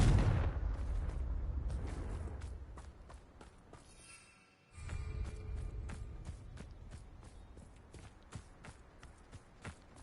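A Confringo blasting spell explodes in Hogwarts Legacy with a loud, booming burst that sustains dense rumbling debris, briefly drops away, then swells again with scattered crackling impacts and sharp hits continuing to the end.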